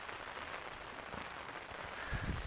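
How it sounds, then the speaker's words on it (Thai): Rain pours down steadily in rural Thailand or Laos during the rainy season, wind mixed in, a dense continuous wash of drops that stays broad and even and swells slightly near the end. "ตอนนี้พี่น้องฝนตกลิ้นได้พี่น้องเด้อ"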